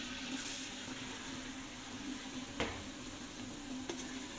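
Celery, garlic and white onion sautéing in hot melted butter for an Alfredo sauce, a steady soft sizzle throughout with a couple of faint clicks of stirring.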